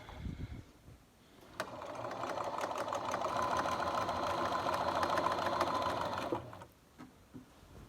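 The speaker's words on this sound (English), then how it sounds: "we're going to do a little back stitch because we always start and stop with a back stitch" A sewing machine stitches a seam on pajama pants, beginning and ending with a back stitch; the motor hums steadily for about five seconds at close range, with quiet pauses before and after.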